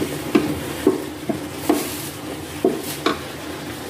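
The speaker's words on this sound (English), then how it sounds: "And then you stir it again." Chicken being stirred in a frying pan with sauces added, a utensil scraping and knocking the pan in repeated strokes at a steady rhythm over a continuous close, soft sizzle.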